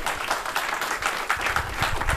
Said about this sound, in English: How about a round of applause for these folks?